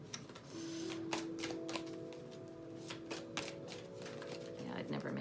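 A tarot card deck is shuffled by hand in loose, uneven bursts of papery riffling and shuffling that continue steadily for several seconds, with a faint background hum underneath.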